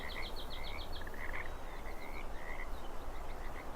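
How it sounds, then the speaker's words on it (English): Nighttime frogs croaking at Mosquito Lake in Russian Fishing 4, a dense chorus of rapid, trilling calls repeating over a steady outdoor background hum, moderately loud and continuous. "You can hear the nighttime frogs making their noise."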